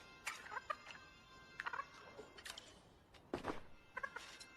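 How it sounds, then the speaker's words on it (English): Chickens in a farming video game with a new ranching update cluck and gobble in short, repeated bursts of several calls, fairly close and alone without talk. "So there is chickens now."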